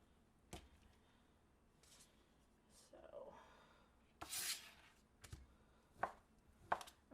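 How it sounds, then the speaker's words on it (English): Leftover turkey cut into chunks on a board for canning, with sparse knife chops and scrapes, a few sharp thuds separated by quieter rubbing, close and low in level. "I'm just cutting it up so that I can get it in the jars fairly easily."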